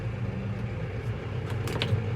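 A tractor engine ticking over before mowing hay, a steady low rumbling drone close by that stays fairly even with faint mechanical rattles on top.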